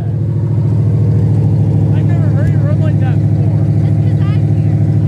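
Jeep CJ5 or Farmall H engine idling after a cold start, a steady close low rumble with harmonic drone throughout, with people talking over it.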